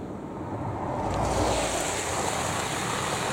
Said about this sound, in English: There's a car coming, let's watch this.